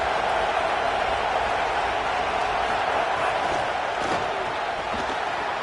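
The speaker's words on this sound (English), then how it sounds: "The roar of the crowd trying to fuel this defense to keep them pinned in their own end." Football stadium crowd roaring steadily as fans urge on the defense, a dense, continuous wall of cheering noise that stays loud throughout with no pauses.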